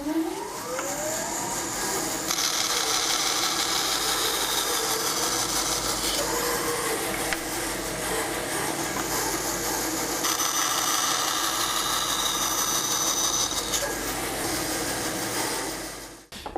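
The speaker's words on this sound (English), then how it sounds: "Having used the bandsaw to cut the 2 vertical lines" A bandsaw cuts through wood with a loud, continuous rasping whine that holds steady for over fifteen seconds and shifts pitch slightly partway through, then winds down at the end.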